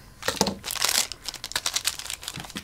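Non-resealable plastic gacha packaging is cut open, producing close, quiet crinkling and tearing bursts in an irregular series, with no talking.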